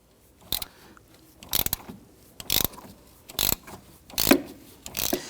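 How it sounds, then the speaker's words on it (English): Hand ratchet with a 12mm socket and extension loosening a bolt on a 2011-2015 Kia Sorento 2.4L transmission mount, six sharp clicking bursts at a steady, near pace. "Now you can use an impact driver or you can use your ratchet like I'm doing."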